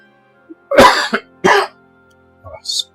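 A few harsh coughs in a short burst, close and fairly loud, followed after a pause by a small throat-clearing sound.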